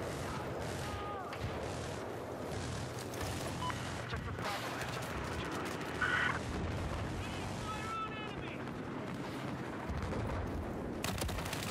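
Scattered gunfire and distant explosions in a Battlefield 4 match, a busy battlefield ambience with sporadic bursts and pops, some of them far off, beneath occasional speech.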